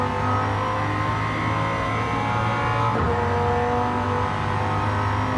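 Supercharged engine of a race car, likely a V8, droning steadily and loud throughout a Gran Turismo 7 endurance race, with a slight pitch shift midway as it holds high revs.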